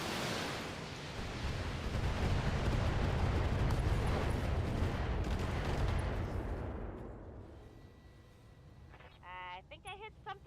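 Mech firing a salvo of missiles in a video game, a loud roaring rush of rocket bursts swelling over several seconds and then fading, with faint pops and a short burst of other sounds at the end.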